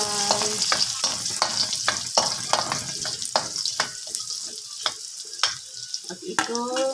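Garlic frying with pork belly in a pan, a strong close sizzle and crackle with repeated sharp clinks of a spoon on metal as it is stirred.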